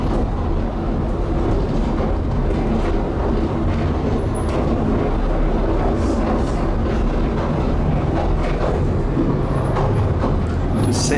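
Southend Pier train heard from inside a carriage as it departs along the 1.33-mile pier, a steady loud low rumble and rattle of wheels and car body running continuously with no voices.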